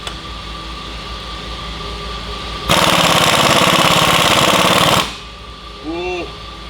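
An impact wrench hammers for about two seconds on the dampener bolts of a Detroit 12V71 diesel engine, a loud, dense rattling burst that rises out of a steady background hum and then cuts off.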